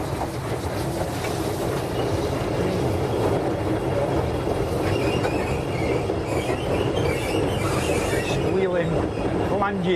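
Wheel flanges squeal against the rails as a steam train runs along a heritage line near the Causey Arch, with faint high squeaks riding over a continuous loud rumble and clatter of the carriages.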